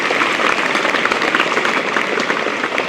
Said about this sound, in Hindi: बेटा एक ताली तो उनके लिए बनती है